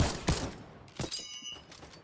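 Infantry rifle gunfire in a shooting video game, with a few sharp shots and short bursts close up. Bright high-pitched game effects and clutter sound between the shots.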